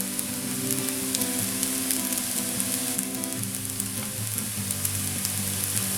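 Veg fried rice sizzling and frying steadily in a hot pan as chilli sauce is added, a loud continuous crackle with stirring scrapes and no talk.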